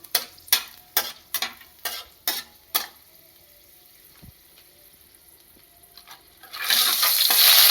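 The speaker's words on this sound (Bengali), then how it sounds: "তেল গরম হয়ে গেছে শুকনো লঙ্কা দিলাম গোটা গরম মশলাটা দিলাম" Dried red chillies and whole garam masala drop into hot oil in a pan: a few sharp utensil clatters first, a quiet stretch, then a loud, steady, close sizzle rising at the end.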